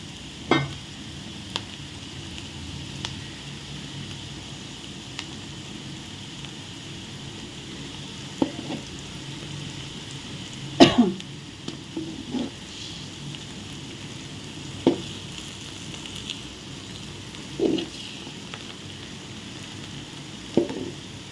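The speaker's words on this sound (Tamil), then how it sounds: "ரெண்டு முட்டையை இந்த மாதிரி மிக்ஸ் பண்ணிவிட்டு சால்ட்டு போட்டு மிக்ஸ் பண்ணிவிட்டு இதில் ஊற்றி விடணும்" Beaten eggs with salt poured in beside vegetables for vegetable rice fry in a pan with a steady soft sizzle, broken by occasional sharp clinks and scrapes of a spatula, close and quiet, no speech.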